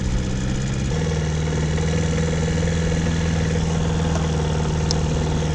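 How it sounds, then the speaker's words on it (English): A dinghy's outboard motor idles while the small boat docks at a dinghy dock, a close, even putter that keeps a steady pitch through the clip with no one talking. "Docking the old dinghy at the dinghy dock."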